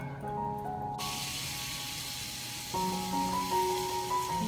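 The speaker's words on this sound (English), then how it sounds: "So I'm getting those down on my grill pan, and I'm just gonna slide some butter on this side of them" Cornish hens sizzle in butter on a grill pan, a steady broadband hiss with music tones running underneath that swell louder near the end.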